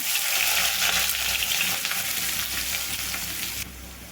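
Chopped onions and curry leaves fry in hot oil in a pan for a curry, giving a loud, dense, continuous sizzle close by that eases slightly near the end, with no talking.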